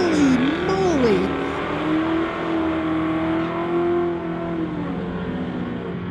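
A 1986 Ford truck accelerates hard at a street-legal drag race, its engine roaring loud and close with a rising pitch held steadily through the run, with a crowd and another car in the background.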